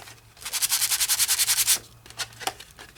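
Sandpaper rubs rapidly back and forth along the edges of an embossed paper card, a close rhythmic scratching run of about a dozen strokes followed by a few slower, lighter swipes.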